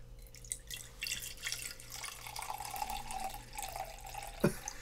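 Wine pours into a glass at a table, a soft liquid trickle and dribble running for several seconds, quiet and close, with a brief clink near the end.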